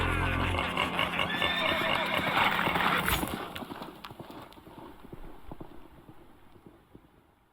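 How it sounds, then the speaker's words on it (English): Horse whinny and clopping hooves used as a sound effect in a cover song, starting loud and close, then fading as hoofbeats recede, with speech over it. "that you hear the whinny of the horse, and then there's a whip of chains as all the candles blow out"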